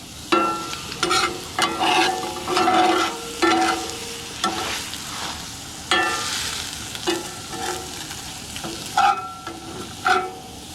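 Chicken liver frying in a pan, stirred repeatedly with a utensil: bursts of scraping and clattering come and go in an irregular rhythm over a steady close-up sizzle.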